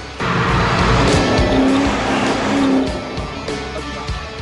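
Jaguar XKR-S sports car with a 550-horsepower engine driving hard, a loud, close roar of revving engine and brief tire squeals rising and easing over a few seconds.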